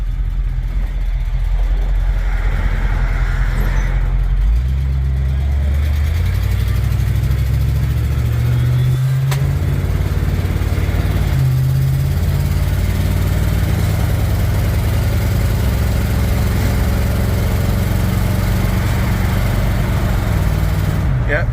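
A 1975 Chevrolet K5 Blazer's engine drones steadily while driving in third gear at about 30 mph. The loud, continuous low rumble rises in pitch as it accelerates and shifts, with a voice talking over it.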